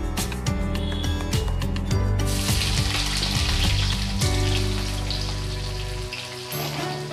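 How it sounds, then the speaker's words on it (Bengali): Chopped onions frying in a pan of tempered spices for yogurt chicken (doi chicken), a continuous sizzle under steady background music. "পেঁয়াজগুলো আমি ভালো করে লাল লাল করে ভেজে নেব।"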